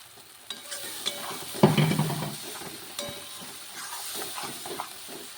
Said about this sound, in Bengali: দেখুন, অনেকটাই মটরশুঁটির পেস্টটা শুকিয়ে আসছে, আস্তে আস্তে নাড়তে হবে।